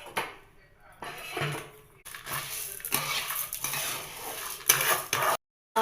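Toor dal roasting in a pan to a brown color, heard as dry rattling and clinking stirs with metal scraping against the pan and a faint sizzle, close up, ending in a short silence.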